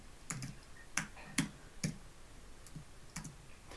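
Code is typed on a computer keyboard in a run of about eight crisp, close key clicks with short uneven gaps between them.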